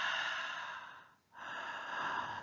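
A single slow breath, drawn in and then let out, close and fairly loud, with a brief silent pause between the two halves and no talking.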